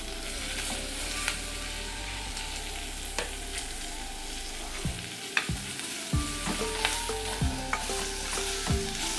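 Onion, chilli and curry leaves fry in oil in a clay pot for an egg and potato gravy, with a steady hiss under scattered scrapes and clinks of a spoon stirring.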